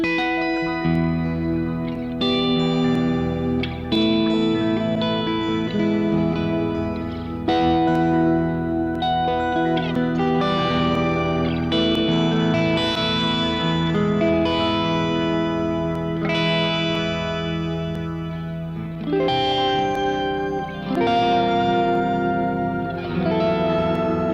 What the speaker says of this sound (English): These are definitely not your run-of-the-mill delay sounds.